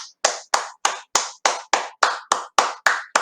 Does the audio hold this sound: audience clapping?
yes